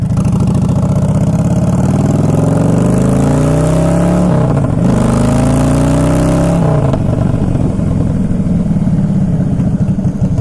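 A motorcycle with a jockey shift revs loudly and close, its engine pitch climbing through a gear, dropping at the shift, climbing again, then settling into a steady drone.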